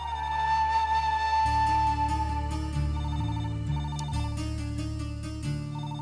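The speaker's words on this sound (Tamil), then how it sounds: "அவ எனக்கு தான் ஃபோன் பண்றா" A home telephone rings with an incoming call, a steady electronic ringtone repeating its melodic pattern loud and clear with no talking over it.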